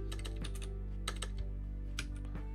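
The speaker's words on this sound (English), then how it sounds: "Typing." Computer keyboard typing at a desk, with bursts of quick key clicks in short irregular runs over a steady low hum, fairly close and alone with no talk.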